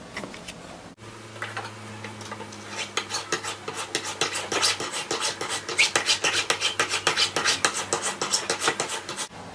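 Rapid scraping strokes of 320-grit abrasive and a file work over a hammered silver torque, close and rhythmic, the strokes quickening and growing louder partway through.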